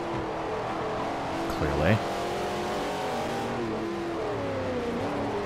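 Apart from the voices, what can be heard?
Jaguar E-type with LS V8 engine revving, Forza Motorsport 4 video game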